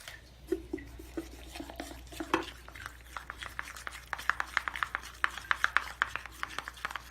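Szechuan sauce and mayonnaise are stirred together in a small bowl, producing soft, quiet scraping and tapping of a utensil that grows into a faster, steady series of light clicks, with no voices.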